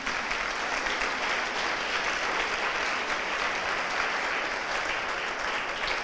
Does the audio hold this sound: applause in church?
yes